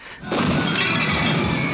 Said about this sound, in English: I'd love to see a biker go through a storefront window.